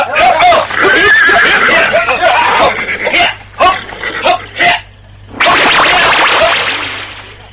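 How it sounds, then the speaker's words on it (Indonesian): Horses in a radio drama as riders mount, with sharp neighs, whip-like cracks and clattering sounds in bursts, loud and close, amid other layered effects. "Mari, naiklah ke kuda masing-masing."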